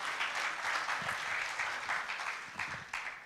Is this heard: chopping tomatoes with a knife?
no